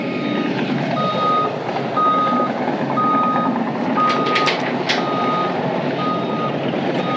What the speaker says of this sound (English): The dozer's pushing a pile.